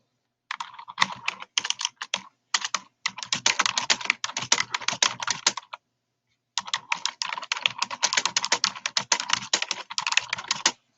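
Rapid clicking of keys on a computer keyboard, steady typing in two bursts separated by a short pause, close and clear with no talking.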